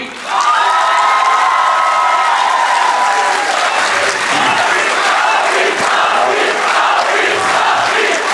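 Audience at an Urdu poetry mushaira bursts into loud, sustained applause and cheering, with whoops and shouts rising over dense clapping that holds steady for several seconds.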